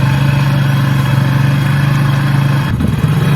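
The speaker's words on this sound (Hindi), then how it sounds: "उसको कोई रेस दे रहा है बाइक को।" A motorbike engine runs close and loud, a steady throbbing idle with a slight surge in revs near the end, and no one talking over it.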